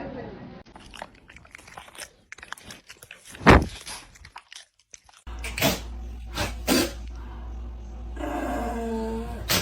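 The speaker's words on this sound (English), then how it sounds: "She's chewing on your tail" A dog chews on a tail, producing loud, irregular crunchy bites and gnawing sounds up close, with a person talking intermittently over it.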